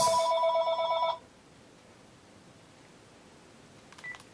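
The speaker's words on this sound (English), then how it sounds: "I have the phone in my room in case someone calls, and of course that's the number that calls" A telephone rings with a loud electronic warble pattern that cuts off after about a second, leaving a quiet room with a faint beep near the end.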